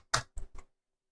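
Three quick, crisp keyboard taps spaced a fraction of a second apart while code is typed, close and clear against a silent background.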